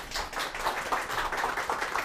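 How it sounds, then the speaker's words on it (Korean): Audience applause in a Korean TV lecture-show studio as a professor is welcomed onstage, a steady, dense patter of many hands clapping at even volume with no voices. "큰 박수로 모셔볼게요"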